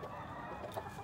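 Soft, close clucking from a rooster comes through low background noise in one short burst, with no talk over it.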